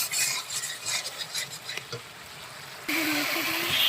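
Spice paste for a country chicken curry stirred and fried in a pan: steady scraping strokes over a soft oil sizzle, the stirring loudest at the start, easing off, then picking up again near the end.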